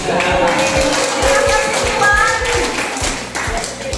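Hands clap in a loose, steady rhythm of sharp repeated claps through the whole stretch, close and fairly loud over a busy background with some voices mixed in.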